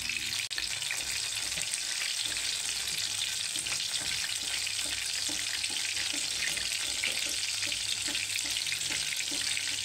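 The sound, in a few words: egg frying on low heat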